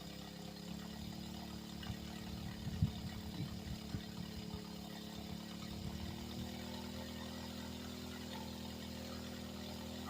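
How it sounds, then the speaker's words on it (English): A gas-powered pump engine runs at a steady low hum, faint and distant, with a few small knocks and bumps near the start. "I gotta check out my pump."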